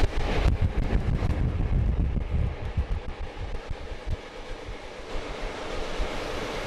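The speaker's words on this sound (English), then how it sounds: "Spending the whole day on the train is a good way to see the country." A passenger train moving on rails through open countryside, a steady rumbling roar with rhythmic clatter and wind rush, loud and continuous throughout with no voices.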